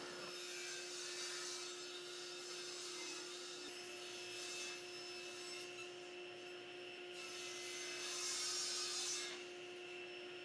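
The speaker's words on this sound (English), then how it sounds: "I could mill up the shelves using a combination of my planer and table saw to their final size" A planer and table saw mill walnut shelves in a woodshop, giving a steady, faint mechanical drone with a constant hum and swelling cutting passes.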